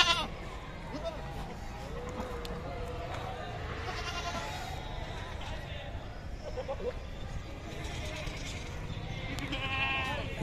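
Goats bleat now and then at the crowded Deonar livestock market, with white-faced and Ajmera breed goats among them, under steady crowd babble and people talking.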